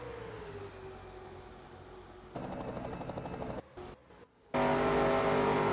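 Race cars run in a restrictor-plate pack in a racing video game set at Monza. A steady engine drone gives way to a louder, denser roar broken by sharp cuts as the view switches.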